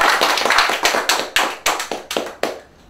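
Audience applause at a graduation and awards ceremony, loud close claps that thin into a few scattered, distinct hand claps before stopping.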